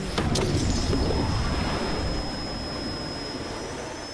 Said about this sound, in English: T. Gray and MK, you are now cleared for flight school takeoff. 4, 3, 2, 1, 0